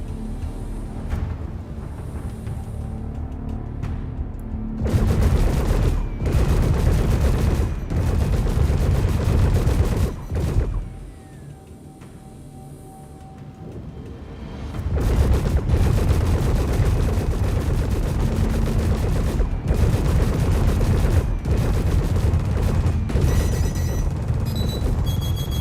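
Gunfire in the Star Citizen video game comes in long, loud, rapid bursts of shots, broken off by a brief quieter gap with a faint tone, then resuming heavily.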